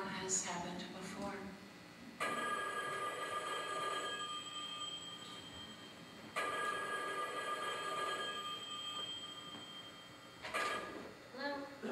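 A telephone rings in repeated long bursts with pauses between them, moderately loud, with a little background talk, at the Academy of Music in Northampton, Massachusetts.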